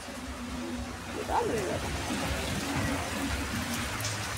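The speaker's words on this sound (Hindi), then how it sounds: "बारिश तेज़ हो रही है।" Steady heavy rain pours down, with a dense hiss and a brief voice or background sound rising above it partway through.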